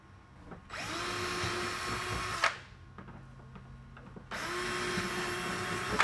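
Power riveter setting rivets in Sleekline trim on an EZGO golf cart body, heard as two loud, steady motorized whirs of about two seconds each, separated by a short quiet gap, with no talking.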